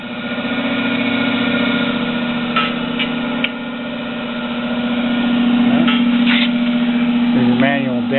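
A RONG FU 38-inch radial drill press with a five-speed belt drive runs in reverse, its motor giving a steady loud hum that swells slightly near the end, with a few faint clicks over it.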